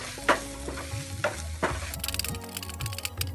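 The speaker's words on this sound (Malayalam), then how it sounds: "ഒണിയനും ചിക്കനും നന്നായി ഫ്രൈ ആയിട്ടുണ്ട്." Onion and chicken frying in a pan, a steady close sizzle broken by repeated scraping stirs of a spoon, brighter crackling toward the end, with no voices.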